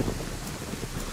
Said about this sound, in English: It's always bloody raining in Livonia.